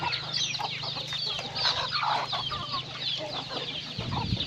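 Chickens on a farm cluck and chatter busily at feeding time, a dense flock of overlapping calls close by with a low steady hum underneath and no one speaking.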